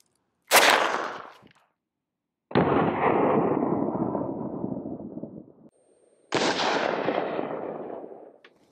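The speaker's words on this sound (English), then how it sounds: "This time we're coming out of our ZF5, American-made MP5 clone with almost a 9-inch barrel." A ZF5 American-made MP5-clone 9mm carbine with an almost 9-inch barrel fires three loud, sharp shots, each leaving a long echoing decay, with near-silent gaps between them.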